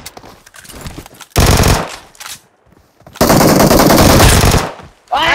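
Bursts of rapid automatic gunfire in the battle royale game BGMS, two long loud sustained volleys separated by a short lull, with a brief muffled voice at the very end.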